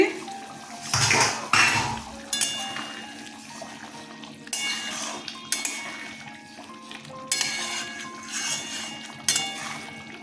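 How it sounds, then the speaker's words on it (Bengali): A pot lid lifted and prawns in mustard sauce stirred, sharp metallic clanks of lid and spoon against the pot followed by scraping stirs and a soft bubbling simmer, close and clear. "দু মিনিট পরে আমি আবার ঢাকনাটা খুলে নেড়ে দেব"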